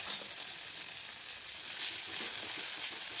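Cumin, mustard seeds, dried chillies, onion and fenugreek fry together in hot oil in a pan, giving a steady, close, bright sizzle with faint crackles throughout, and no voices.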